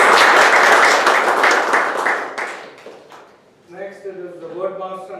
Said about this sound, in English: So I'd like to request all of you to give him a round of applause